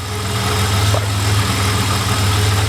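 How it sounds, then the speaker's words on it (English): A supercharged car engine idling steadily right after an oil change that left it overfilled, with a loud, constant low rumble and an even drone, and no voices. "So I'm going to get this engine a bit warm"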